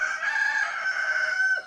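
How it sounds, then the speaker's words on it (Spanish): A rooster crows once in the night, a loud, close, sustained cock-a-doodle-doo that holds steady before cutting off sharply. "Se oyó el canto de un gallo en el silencio de la noche."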